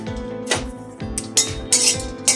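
Cinnamon and cardamom stirred in a metal kadai, repeated clinks and scrapes of a spoon against the pan in a quick, uneven rhythm, close and alone.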